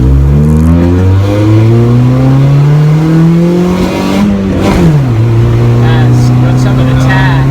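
A car running a D15b7 ECU pulls away hard after a clutch dump, engine revving up steadily through the gears with a drop at a shift, loud and close, with people talking over it.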